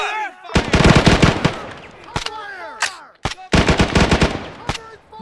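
Rapid automatic gunfire in the military shooter game Arma 3 crackles in several loud bursts with single shots between, echoing sharply and close by amid a tense firefight.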